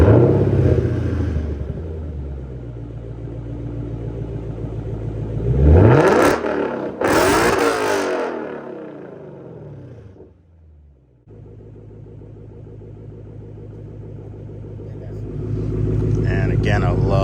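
A Lexus GS F's exhaust rumbles with a deep, steady idle, then swells in a loud rev around the middle, drops back and settles into a low burble that builds again, with some talk over it.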